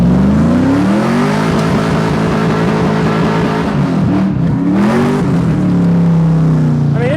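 A Chevrolet Camaro SS V8 with body damage revving loud and close, the engine note rising, dipping and swelling again through several throttle blips before settling into a steady rumble.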